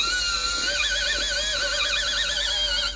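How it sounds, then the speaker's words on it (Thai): Power drill with a pilot bit boring a hole for a steel door latch, a continuous loud whine that wavers in pitch for three seconds. "ก็อันดับแรกผมจะเอาดอกสว่านนำก่อนนะครับแล้วผมก็จะตามด้วยดอกเจดีนะครับ"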